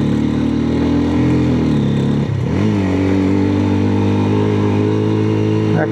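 A motorcycle engine held at about 7000 RPM in first gear gives a loud, sustained high-revving drone, with a brief dip and recovery in pitch partway through.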